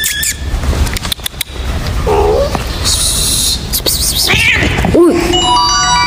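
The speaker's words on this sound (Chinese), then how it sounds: "哇哦，这里好多小猫。" Stray cats in a Nubian village near Egypt's border give several short, rising meows and a squealing cry, close and fairly loud over busy background noise and scattered clatter.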